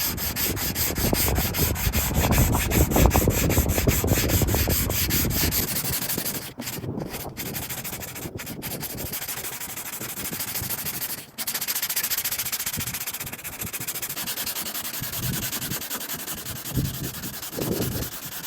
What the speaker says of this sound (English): All right, we got it all sanded.